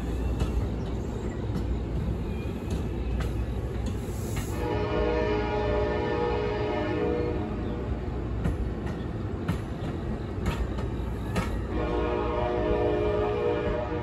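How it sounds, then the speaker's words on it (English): A Norfolk Southern freight train rolls past under steady rumbling noise, with its horn sounding in bursts from around the middle of the passage and again near the end. "that was a marked train just starting its day"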